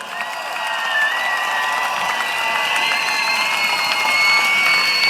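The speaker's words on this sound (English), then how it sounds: "Please give them a big round of applause." A large crowd at a PAP campaign rally in Jurong West Stadium breaks into applause and cheering, a broad, sustained roar of clapping and voices that builds slightly and holds steady, with no talk on top.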